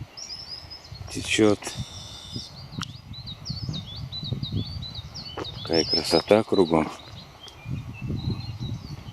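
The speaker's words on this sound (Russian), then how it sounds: "Прям концерт птичий." Birds sing and chirp along the Belaya river on a forest track, bright calls scattered through the clip, with someone speaking over them at times.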